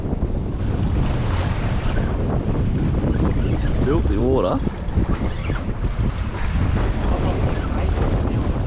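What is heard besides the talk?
strong wind on a fishing boat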